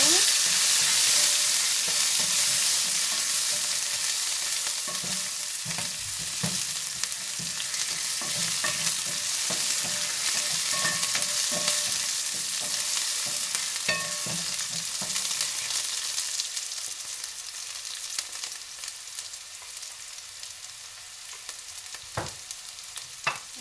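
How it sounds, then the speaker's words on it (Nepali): Masala frying in a pan for a Nepali-style asparagus dish is stirred continuously, with a loud, dense sizzle and scraping strokes that ease off in the later part. "अब चाहिँ मसला मजाले चलाउँछु"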